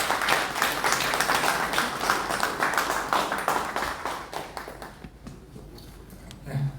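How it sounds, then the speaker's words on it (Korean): An audience at a formal inaugural meeting applauds to welcome the vice chairman, a loud, dense round of clapping that gradually thins and tapers into scattered claps. "부의장님을 큰 박수로 모시겠습니다"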